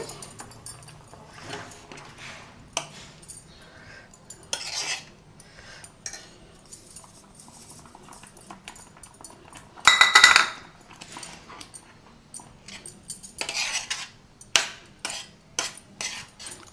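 A spoon clinks and scrapes against a pan while semolina (rava) dough for undrallu is stirred, giving sparse, quiet scrapes and taps with a couple of louder metallic bursts spread across the stretch.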